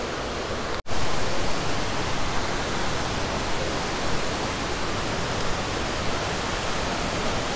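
A waterfall in Chiang Mai, Thailand roars steadily and loudly, a dense continuous rush of falling water with no voices.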